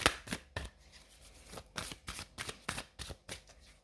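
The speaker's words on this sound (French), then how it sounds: "on va tirer les petites cartes" Oracle cards are shuffled by hand close up, a series of crisp riffling bursts and soft slaps in an uneven rhythm, with quiet pauses between the bursts.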